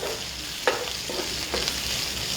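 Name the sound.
garlic and onion sautéing in pan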